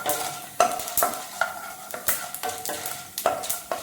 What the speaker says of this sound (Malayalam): ശേഷം അതിൻ്റെ കളർ ചെറുതായിട്ട് ഒന്ന് ചേഞ്ച് ആവുന്ന വരെ നമ്മൾ ഇളക്കി കൊടുത്തുകൊണ്ടിരിക്കണം കേട്ടോ